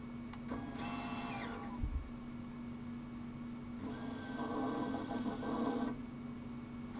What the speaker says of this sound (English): Motor 2 actually does spin.